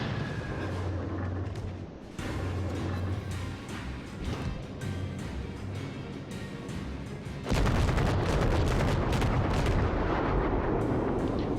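Naval gunfire in the World of Warships video game: dense, rumbling salvos and booms that run steadily and swell much louder partway through, with no talking.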